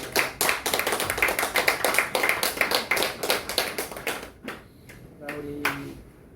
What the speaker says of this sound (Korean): 우리 이희건 선생님의 감사와 앞으로 큰 건강을 위해서 응원의 박수 부탁드립니다.